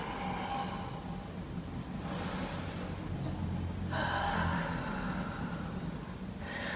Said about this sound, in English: Breathing here first.